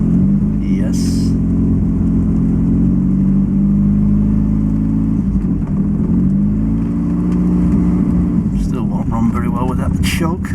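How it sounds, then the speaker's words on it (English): Lotus Excel car engine running close by with steady throttle blips, its mid-pitched drone rising and falling in smooth swells while someone talks over it. "Bit of throttle, see if the throttle is working."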